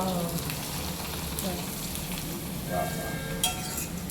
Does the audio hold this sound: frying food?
yes